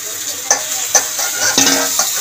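Pre-fried fish head pieces are stirred in a pan with potato and papaya, giving loud close sizzling broken by four sharp scraping strokes of a spatula, no voices.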